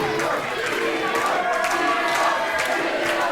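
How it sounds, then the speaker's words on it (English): A wrestling crowd roars wildly and continuously, a loud wall of cheering and shouting filling the whole stretch, with no gap or letup. "Crowd are going absolutely wild for Leon."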